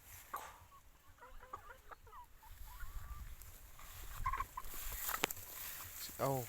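Chickens cluck and squawk intermittently nearby, with outdoor background noise and a faint voice talking now and then.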